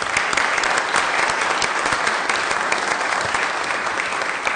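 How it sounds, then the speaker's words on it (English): An audience at a school board meeting gives a round of applause for an elementary school student, a dense, continuous clapping from many people with individual claps standing out at close range. "Let's give Alyssa a round of applause."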